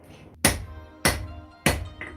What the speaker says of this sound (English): this is a round face hammer, so it is really making this wonky